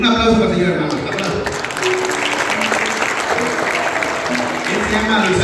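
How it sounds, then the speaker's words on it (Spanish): Congregation applauding during a church service, steady clapping at moderate level with voices and a sustained tone carrying over it throughout. "Un aplauso para el Señor, hermano."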